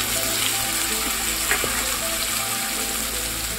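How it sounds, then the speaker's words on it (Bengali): Ginger garlic paste and onion paste frying in hot oil, a steady dense sizzle that stays loud and close throughout, with no voices. "আমি প্রথমেই অ্যাড করছি আদা রসুন পেস্ট, এটা পেঁয়াজ পেস্ট"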